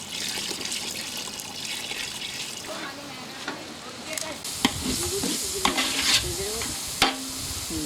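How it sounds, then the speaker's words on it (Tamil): Water is poured onto chicken in a hot pan for biryani, setting off loud crackling and sizzling while a spoon stirs and a voice speaks briefly. "වතුර එකතු කරනවා."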